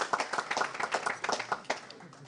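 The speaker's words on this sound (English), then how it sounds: "Give him a round of applause." An audience at a racing and betting forum in Paris breaks into a round of applause, a dense, steady patter of many hands clapping for about two seconds with a voice speaking over it.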